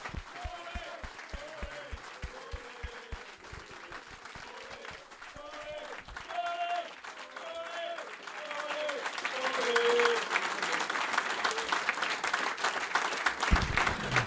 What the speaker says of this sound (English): everybody in the room, stand up and give him a round of applause